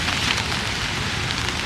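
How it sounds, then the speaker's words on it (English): Heavy rain pours outdoors, a dense, continuous hiss of drops striking surfaces, steady and loud throughout without any voices. "Super rainy."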